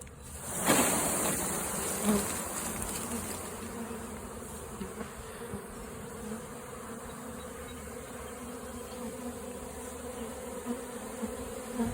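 Honeybee swarm shaken into a hive, a dense continuous buzzing hum of many bees at moderate level after an initial knock, holding steady throughout.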